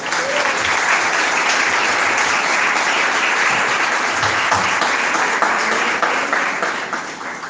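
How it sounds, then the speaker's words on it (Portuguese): A church congregation applauds together at the close of a worship service, giving sustained, dense clapping that holds steady and loud throughout, with no voices standing out. "as palmas ao Senhor"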